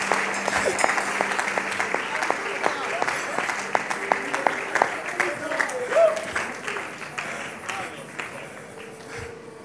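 An audience claps at a religious gathering, with a burst of hand claps that rises to a lively peak and then thins toward the end, while voices talk over it.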